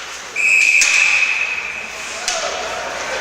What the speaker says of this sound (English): And a whistle along the end boards, halting play.